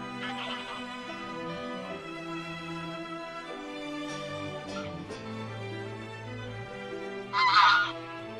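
Geese honking during a great bird migration, scattered nasal calls over a layered musical background, with one louder burst of honks near the end.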